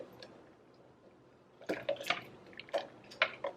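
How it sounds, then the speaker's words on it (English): Orange and lemon juice poured into a container for a recovery juice, heard as a run of close, wet splashing and dripping bursts that begin partway through after a quiet start, with no talking. "this is some pure orange and lemon juice, okay? So I'm just gonna pour it in here."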